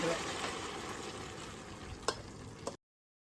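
Boiled tripe hits a hot pan for a chana curry and sizzles, a faint steady frying hiss with a couple of small clinks near the end before it cuts off.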